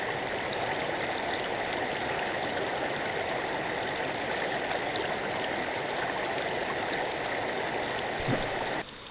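Heavy rain pours steadily on an outdoor gold prospecting setup with a sluice running water, a dense continuous wash of hiss and splashing with no pauses, close and loud throughout.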